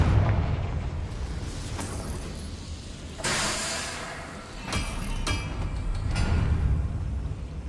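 Magical blasting-spell explosions in the fantasy action game Hogwarts Legacy: several broad booming bursts land over a low rumbling battle bed, the loudest near the middle, with no voices.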